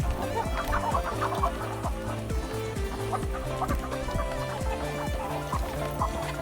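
Many chickens cluck steadily nearby in a busy, overlapping chorus as they eat moringa leaves, with soft pecking and scratching sounds underneath and no voices.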